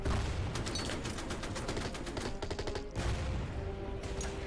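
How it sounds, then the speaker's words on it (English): Artillery barrages from the war strategy game Order of Battle: Red Steel, a rapid, loud fusillade of repeated booming shots in quick succession, dense and continuous with a brief pause before more firing. "A little bit of artillery fire goes a long way"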